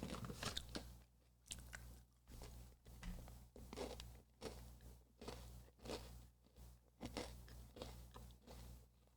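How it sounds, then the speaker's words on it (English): Crunchy pretzels being chewed close to the mic, with a steady run of loud, rhythmic crunching bites repeating through the whole stretch, and no talk. "You guys get to hear my pretzel chomping."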